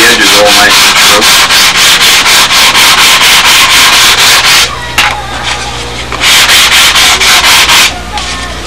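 Rhythmic back-and-forth sandpaper strokes rasping on wood, loud and close, in quick even bursts with a brief pause midway before resuming.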